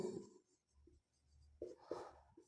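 A pen scratches across paper during a class 10 probability maths lesson, with short, faint scribbling strokes in quick bursts and pauses, close and quiet.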